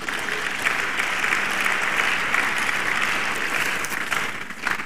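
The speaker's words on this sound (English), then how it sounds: "Please, can we give the Lord a round of applause?" Audience applause fills a hall at a birthday public lecture held in honour of a pastor, steady and dense for about five seconds, then tapering slightly at the end.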